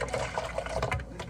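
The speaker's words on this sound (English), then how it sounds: "Give it a little bit more water." Water pouring into a Herbalife mango-pineapple tea mix, a continuous splashing, gurgling fill heard up close without talk.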